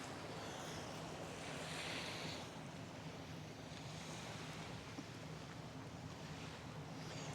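Steady surf washes onto a beach where boats are tied up, a continuous broad wash with gentle swells and wind rumble, no voices.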